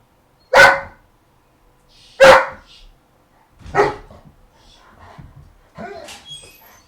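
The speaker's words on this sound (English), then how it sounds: "What are you barking about?" A dog barks sharply twice, then a third time a moment later, followed by softer yips and rustling at close range.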